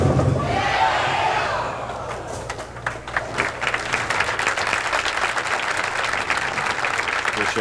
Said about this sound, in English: appreciation showed by the capacity crowd here in Fresno